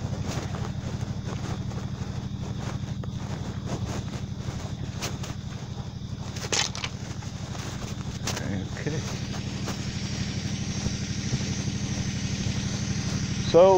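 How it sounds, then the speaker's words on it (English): A greens mower hums steadily across golf course greens, its engine drone constant and fairly close, with occasional clunks and a person speaking over it. "So, mowing greens is always the first order of business for me."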